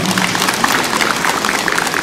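Audience applause at a lifelong-learning festival opening ceremony in Jecheon, a dense, steady wash of clapping hands filling the whole stretch at even loudness.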